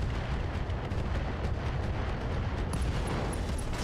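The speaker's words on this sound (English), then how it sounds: "Ammo explosion" A mech's ammunition cooks off in a Battletech battle, a sustained roaring rumble of explosions and heavy fire that fills the whole stretch at steady loudness.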